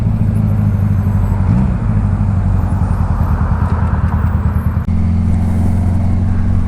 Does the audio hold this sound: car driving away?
yes